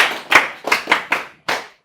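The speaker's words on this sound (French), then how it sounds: "Très bien, applaudissez pour elle." A small class audience claps in short bursts of about five or six distinct, close claps spread over two seconds, with a pause before the last burst, during a lesson about making homemade yogurt.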